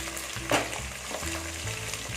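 Green chillies sauté in hot oil for a Tamil fish curry (meen kulambu), making a steady close sizzle with a short louder stirring scrape midway and soft background tones.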